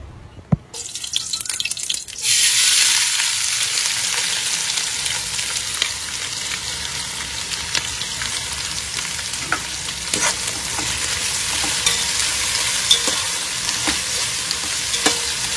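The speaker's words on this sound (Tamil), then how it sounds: "அது வரைக்கும் நல்லா வதக்கி எடுத்துக்கலாம் வெங்காயத்தை" Onions frying and being stirred in hot oil with spices for an Ambur-style chicken seeraga samba biryani: a loud, steady sizzle that jumps up after the first couple of seconds, with frequent scrapes and clicks of the spoon against the pan.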